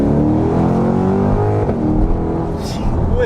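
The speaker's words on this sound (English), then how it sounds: "It's such a classic American V8 noise." Mid-engine Chevrolet Corvette V8 rumbling and revving, a loud, dense engine roar held steady with a slight pitch rise near the end.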